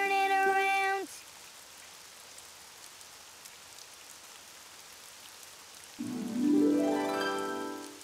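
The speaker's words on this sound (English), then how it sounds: "Oh, it's raining outside." Steady rain falling outside, a soft continuous hiss that runs alone through the middle, framed at start and end by louder tonal music.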